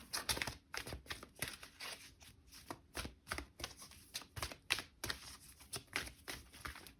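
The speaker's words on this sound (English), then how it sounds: "let's shuffle more." Tarot cards are shuffled by hand in a quick, uneven run of crisp riffling slaps and flutters, close and clear, with short pauses between bursts and no talking.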